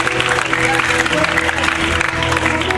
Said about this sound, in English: can you give Conte a round of applause, please?